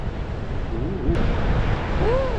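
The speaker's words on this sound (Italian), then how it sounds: "Guarda queste belle onde qua, che adesso arriva un'onda bella." Big ocean waves roar and crash at Nazaré, Portugal, in a dense, continuous wash of low rumbling surf, with faint voices barely audible beneath it.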